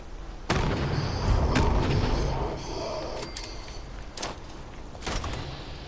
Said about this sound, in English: Let's just lob a couple of grenades that direction.